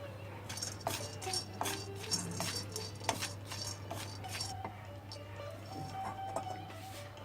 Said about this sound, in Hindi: अब इसमें पीपल भूनेंगे।